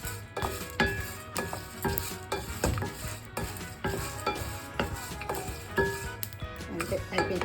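Dry ginger roasting in a hot pan gives soft sizzling under repeated scraping and stirring, with intermittent clinks of a utensil against the pan in an uneven rhythm.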